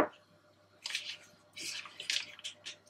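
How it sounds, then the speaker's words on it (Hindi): Oil pouring into a kadhai wok for a sauce, a few soft close liquid splashes and trickles in short bursts, fairly quiet with no talk. "एक कढ़ाई में 3 टेबलस्पून जितना तेल डाल दें"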